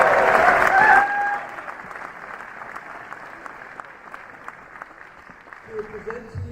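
An audience at a fall awards ceremony cheers and applauds loudly for about a second, then the clapping fades to a quiet patter and a voice starts speaking near the end.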